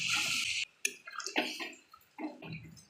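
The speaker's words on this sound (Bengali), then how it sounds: "এবার পরিমাণ মতন জলটা দেবো।" Water is poured into a pot of chicken curry in short, uneven splashing bursts separated by brief pauses, fairly quiet and close.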